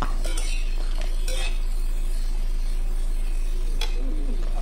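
Beef and green vegetables stirred in a pan with cooking oil, a utensil scraping and clinking against the metal in a few soft, close strokes over a faint background hum.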